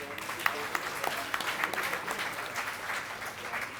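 Audience applause at an International Girl Child Day event, a steady, dense clapping from a crowd that holds at an even level throughout, with scattered sharper claps standing out.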